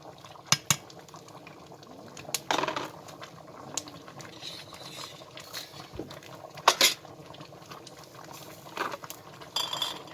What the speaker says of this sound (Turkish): Tenceremin altını biraz hızlandırdım. Kaynayıversin doldurayım diye.